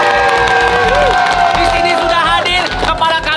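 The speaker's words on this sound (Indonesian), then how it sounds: "Tepuk tangan." Audience at an anti-drug outreach event in Bali claps and cheers loudly and continuously, with children's shouts and whoops mixed in, while voices talk over the din.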